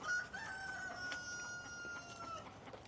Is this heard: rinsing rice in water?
no